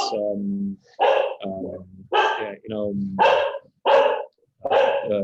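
A dog barks loudly and close by, about half a dozen sharp barks in a quick, uneven rhythm, broken up by lower whining sounds.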